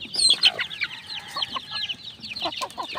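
Chicks peeping in a busy high-pitched chorus with hens clucking lower among them, close and continuous with no talk.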